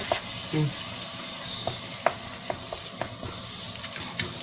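Garlic fries in chili oil in a pan, giving a continuous close sizzle broken by scattered spatula taps and stirring clicks. A short voiced sound is heard near the start.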